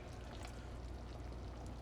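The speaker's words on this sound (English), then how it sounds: "I have to add a little bit of saffron water actually at this point" Saffron water is poured in a brief, faint stream into a pomegranate and walnut stew (Khoresht Fesenjan), with a soft, steady trickling splash and no voices.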